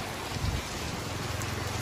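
Heavy rain falls in the Vietnamese highlands of Son La and Ha Giang, heard as a dense, steady wash of drops on surfaces near a grocery shelter, continuous and even with no talking.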